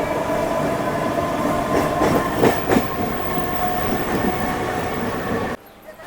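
A passenger train leaving Panagarh station rumbles loudly and steadily, wheels clacking in a few quick bursts, before the sound cuts abruptly to a quieter hum.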